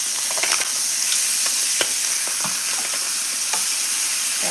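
Pork chops pan frying in hot oil, a loud, close, continuous sizzle crackling with sharp pops and spatters, with no voices.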